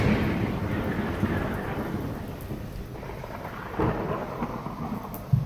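Steady heavy rain pours down with rolling thunder rumbling underneath, loud and continuous, with occasional louder swells and a sharper crack near the end.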